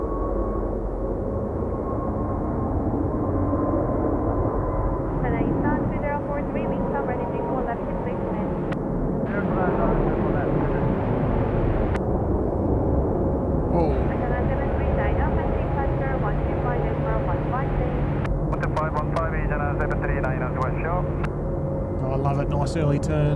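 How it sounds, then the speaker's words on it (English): Korean wide-body airliners in new livery taxi at Seoul Incheon airport, their engines a constant low rumbling drone from a distance, with people talking over it throughout. "Couple of new livery Korean wide bodies on taxi, looks like."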